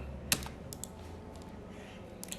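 Quiet keyboard typing while a command is entered into a network switch in Packet Tracer, with a sharp louder keystroke near the start followed by a few faint scattered taps, close and alone.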